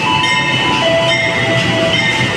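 Railway cars creeping slowly through a station in Yogyakarta, Indonesia, a steady metallic rumble with faint squealing tones, loud and continuous throughout without any talk.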